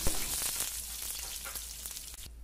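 Chepa shutki fritters wrapped in pumpkin leaves fry in hot oil, a soft, close, continuous sizzle with small popping crackles throughout, no voices over it.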